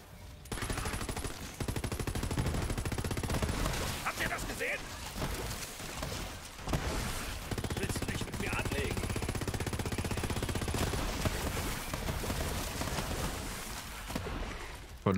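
Gunfire from the video game Borderlands 3, dense and continuous bursts of shots and impacts running nearly the whole time at steady high loudness, with a brief lull midway, while someone talks over the action.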